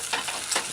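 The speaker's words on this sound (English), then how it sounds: "just use your wooden spoon or your spatula and stir in" A wooden spoon stirs a steak and vegetable stir-fry in a saucepan on the stove, making a soft sizzle with two brief scraping strokes, close and short.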